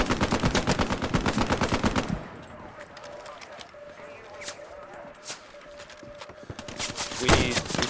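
Rapid automatic gunfire in the WWII shooter game Hell Let Loose, a dense loud burst of rounds for about two seconds, then quieter scattered shots and distant fire with a player talking over it.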